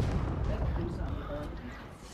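Fireworks burst in Marvel's Spider-Man 2, a dense rumbling barrage of booms and crackles running continuously under excited voices talking.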